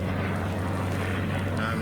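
A US Black Hawk helicopter drones with a deep, steady low rotor and engine rumble, heavily buffeted by wind noise as captured in an amateur recording, continuous throughout the brief stretch.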